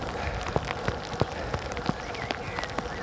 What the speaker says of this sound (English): it's definitely raining and it's definitely going to be a wet one.